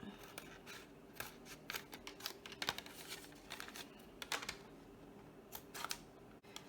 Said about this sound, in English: I'm going to follow the template and just cut this petal out.